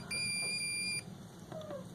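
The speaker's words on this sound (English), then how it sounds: "if I touch these two things, it beeps" A steady electronic multimeter continuity beep with a high pitched tone sounds for about one second, then cuts off; a faint, shorter chirp follows over low background hum.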